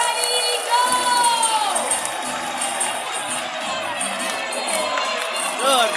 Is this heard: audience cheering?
yes